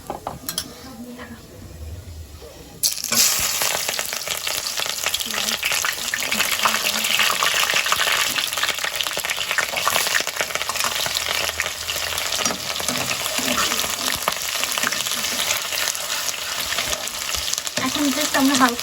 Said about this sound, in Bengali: তেল গরম হয়ে গিয়েছে এখন তেজপাতা দিচ্ছে